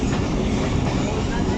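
The Lasani Express rumbles out of Paslu railway station at dusk, a loud, continuous low roar of wheels and carriages with a steady rushing wash over it.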